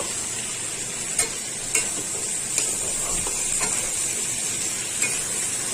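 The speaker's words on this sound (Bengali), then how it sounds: "এখন আমি দিয়ে দিব সবজিগুলো, বরবটিগুলো। আচ্ছা, এখন আমি দিয়ে দিব টমেটোগুলো।" Yardlong beans and tomatoes sizzle steadily in a hot pan, with a few sharp scraping clicks of a spatula stirring them at irregular intervals.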